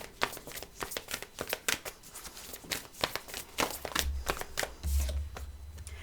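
Tarot and oracle cards being shuffled up close, a quick run of crisp riffling flutters and soft taps in an irregular rhythm, fairly quiet.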